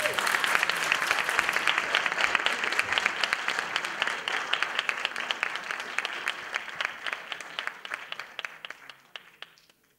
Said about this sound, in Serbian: Veliki aplauz za Simeona